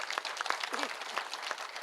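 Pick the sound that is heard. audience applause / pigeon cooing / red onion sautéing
audience applause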